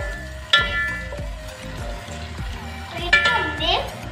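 Two onions tipped into a hot pan for aloo gosht, with sharp drops of clatter around half a second and three seconds, then a steady oil sizzle and frying under occasional stirring knocks, fairly close.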